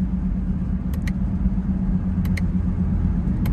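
Chevrolet Camaro 1SS V8 heard from inside while driving in daytime, a steady low engine rumble with road noise throughout and a few faint high clicks.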